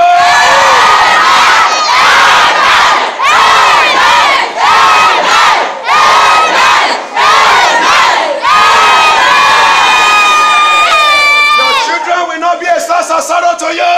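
A church congregation at a children's deliverance service shouts together in loud, repeated bursts of mass voices, rising in waves like cheering, then trailing into scattered cries at the end.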